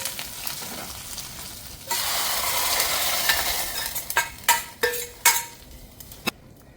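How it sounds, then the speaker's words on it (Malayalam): A hot tempering of mustard seeds, dried red chillies and curry leaves hits a pineapple-pumpkin pachadi with a sudden loud sizzle that fades, followed by several sharp spoon clinks against the pot while stirring, close and unaccompanied by speech. "വറവിട്ടിട്ട് നല്ലവണ്ണം ഇളക്കിയെടുക്കുക."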